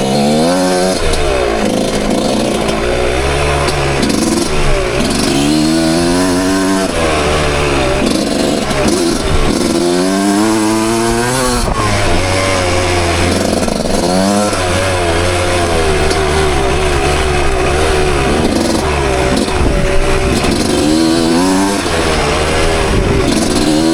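1996 Suzuki RM125 two-stroke motocross bike ridden on woods trails, engine buzzing and revving hard with repeated rising and falling pitch sweeps as the throttle opens and closes, loud and continuous throughout.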